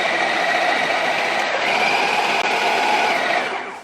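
A food processor whirring as it chops cooked chickpeas with onions for falafel, a loud steady motor drone with a high whine that shifts slightly in pitch, then cuts off near the end.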